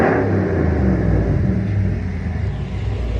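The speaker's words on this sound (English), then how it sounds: "Okay, so a couple last revs." A Hemi 5.7L V8 with a loud exhaust revs a final couple of times, a heavy low rumble holding steady throughout the short burst without any talking.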